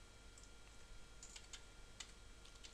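Quiet keystrokes on a computer keyboard come in small irregular bursts, soft and close against a faint hiss.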